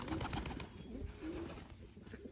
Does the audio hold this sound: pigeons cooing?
yes